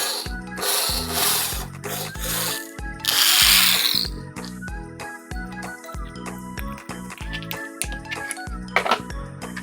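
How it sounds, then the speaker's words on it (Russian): A drill bores a hole in the center of a cap to fit a bolt, giving close, repeated bursts of grinding, ratcheting and metallic rattling separated by short pauses. "Делаем по центру метку и просверливаем отверстие."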